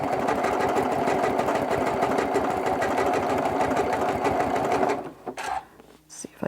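Sewing machine running steadily at close range, stitching a quilt-as-you-go mug rug from crumb fabric with decorative stitches, a fast rhythmic mechanical chatter that stops abruptly near the end, followed by faint handling noises.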